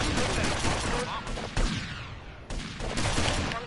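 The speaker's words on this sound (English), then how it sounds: "Oh, who's shooting?" Gunfire rattles through a street scene in GTA Vice City, with dense volleys of rapid shots and a few sharp cracks, loud and close, breaking off briefly before resuming.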